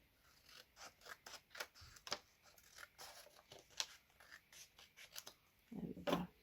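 Scissors snip paper while trimming a 3D flower pop-up card, a quick run of small crisp cuts close up with a brief paper rustle at the end, quiet and without talking.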